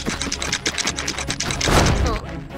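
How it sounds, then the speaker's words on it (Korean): A special flipper gadget activates in an animated robot-car battle with a loud mechanical whir of ratcheting, gear-like clicks that rises toward the end, heard without speech. "특수 오리발 작동!"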